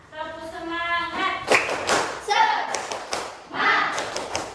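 A classroom of pupils doing the tepuk semangat rhythmic clapping chant, with bursts of hand claps and taps mixed with loud children's chanting voices, following a teacher's sung lead at the start.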